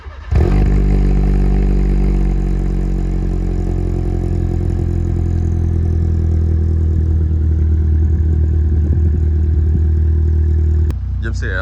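Fiat Seicento with a stainless exhaust and a universal rear muffler, cold-starting with a quick crank, then settling into a loud, deep, steady idle up close before cutting off abruptly near the end.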